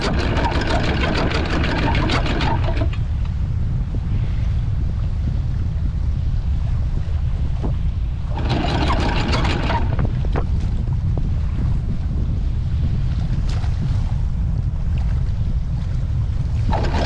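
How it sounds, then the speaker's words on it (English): Strong wind buffets a Nordhavn 50 motor vessel near Bimini in the Bahamas, a steady loud roar with low engine rumble beneath and no talk. "It is windy."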